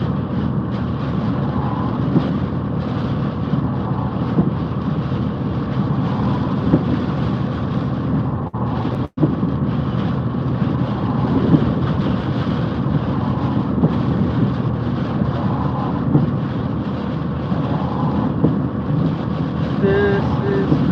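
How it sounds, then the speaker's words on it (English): Strong wind roars in a dense, continuous rush buffeting the microphone, loud and close throughout with a single sharp dropout near the middle and no clear words over it. "This is some wind."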